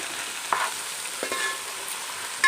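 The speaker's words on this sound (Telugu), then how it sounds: "అన్ని బెండకాయలన్నీ వేసుకొని మంచిగా ఫ్రై చేసుకోవాలి." Okra frying in oil in a pan, a steady close sizzle and hiss with a couple of brief stirring scrapes, no voices.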